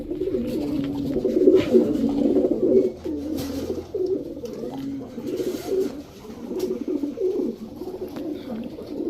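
Black-necked Giribaj high-flyer pigeons, a male and female pair, coo close by in continuous rolling, overlapping calls with soft throaty pulses throughout.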